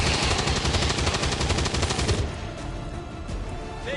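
Rapid automatic gunfire from the XCOM 2: War of the Chosen video game, a loud, dense, continuous burst that cuts off after about two seconds into a rumbling tail; no talking.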